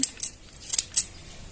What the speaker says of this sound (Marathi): तोपर्यंत कोथिंबीर कट करून घेऊया